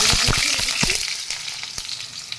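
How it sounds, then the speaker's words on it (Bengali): Potatoes drop into hot oil seasoned with a browned five-spice tempering for a Bengali ridge gourd and potato poppy-seed dish. The result is a loud, steady sizzle with a few sharp spits and crackles near the start, and no talking. "আলুগুলো ছেড়ে দিচ্ছি। প্রথমে আলুগুলো দিয়ে আমি কিছুক্ষণ ভাজা ভাজা করে নেব।"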